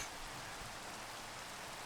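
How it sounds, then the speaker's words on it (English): Steady rain falls in the Minecraft video game beside a large ocean or lake, a faint, even hiss of drops on surfaces with no voices. "It is raining, not snowing."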